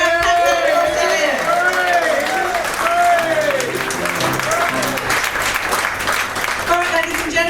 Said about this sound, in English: 3 rounds of applause for our captain, Australia.